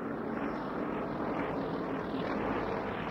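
A steady, droning engine roar holds at a constant level throughout, the heavy 1,000-horsepower nine-cylinder air-cooled radial engine of a WWII Soviet fighter running without letting up.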